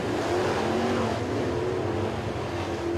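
Sportsman late model race cars roar around a speedway during a heat race at Crossville Speedway, a steady, dense engine drone with tonal whine held at constant loudness throughout.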